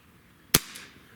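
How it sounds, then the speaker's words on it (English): A single sharp crack from an S&W 586 air revolver firing a 7-grain Diablo Basic pellet, close and loud, with a brief faint tail afterward. "So let's start with 5 shots over the Crony with our 586."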